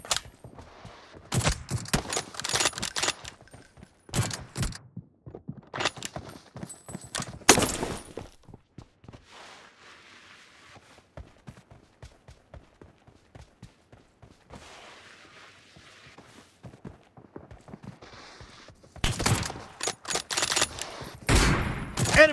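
Gunfire in the mobile shooter PUBG Mobile during a team deathmatch with M24 sniper rifles: many sharp shots, some in clusters and some isolated, heavy at the start and end and sparser in the middle, with little talk.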